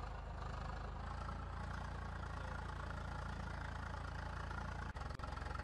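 Tractor engines idle in Farming Simulator 22 with an Indian mod, a steady low rumbling drone that holds level throughout with a couple of brief dropouts near the end.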